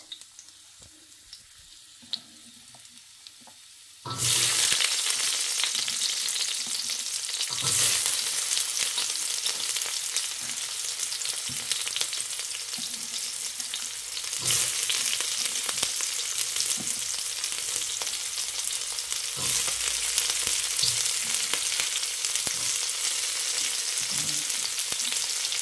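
Ginger dropped into hot oil in a pan for ginataang kalabasa with squash, long beans, eggplant and shrimp, bursting into a loud steady sizzle after a quiet start and frying on continuously with occasional stirring scrapes.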